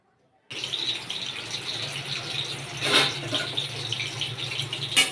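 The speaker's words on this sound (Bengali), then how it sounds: "এরপর আমি চিকেন পকোড়াগুলোকে ভাজতে থাকলাম।" Chicken pakoras fry in oil over gentle medium heat, giving a steady, close sizzling hiss that starts abruptly and continues with small bursts of crackle.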